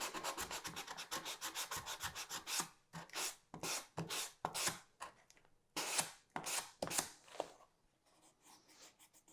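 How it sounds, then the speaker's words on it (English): Hand sanding of EVA foam with 320 grit sandpaper, close rhythmic rasping strokes repeating fast at first, then slower, separate swipes with short pauses, no talking. "I sanded everything using just 320 grit"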